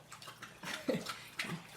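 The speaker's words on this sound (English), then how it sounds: "hear my dog's drinking water right now" A dog drinking water from a bowl, faint rhythmic lapping and splashing in a quiet room, soft and fairly close, with no talking over it.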